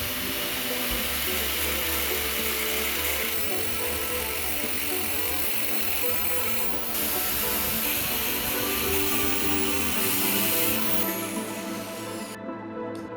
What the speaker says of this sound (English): We'll use an angle grinder for this.